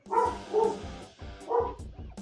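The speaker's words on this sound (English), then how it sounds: "I guarantee that dog is barking at nothing." A dog barks in a steady run of four or five loud, close woofs spaced about half a second apart, with no talking over them.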